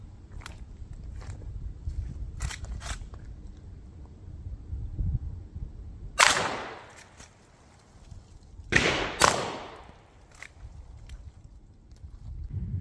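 Two .38 Special gunshots fire from an 18-inch barrel, two sharp cracks a few seconds apart with fading tails, set against quiet outdoor background noise.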